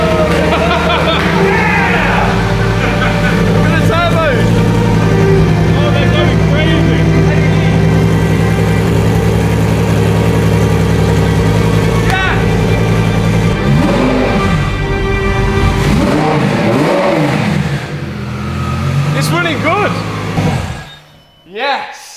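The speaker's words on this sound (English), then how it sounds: "The gallardo was running for the first time since the crash." Lamborghini Gallardo engine, rebuilt after a crash, running and revving for the first time, a loud close rumble with rising and falling revs under excited talk and cheering, fading and cutting out near the end.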